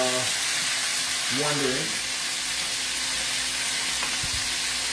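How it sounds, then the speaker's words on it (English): Frozen broccoli sautés in a pan with a loud, constant sizzle and hiss, while brief talk and a few faint clinks sit under the frying. "I'll go ahead and get some broccoli in here cooked a little bit"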